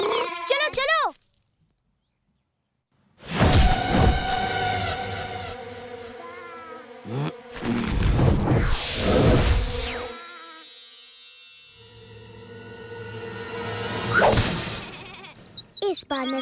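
Sheep bleat in an animated children's cartoon about young Krishna, wavering cries rising loud alongside energetic voices and background music, with a silent gap early on.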